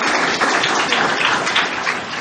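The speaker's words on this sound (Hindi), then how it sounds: "करेक्ट, तालियां बजाइए।" Schoolchildren in a classroom at Bahattanagar Kulakamini Vidyamandir applauding together: a loud, dense, continuous wash of many hands clapping at once, sustained throughout, with no one speaking.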